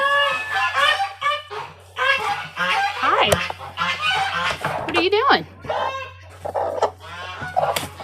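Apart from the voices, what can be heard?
hen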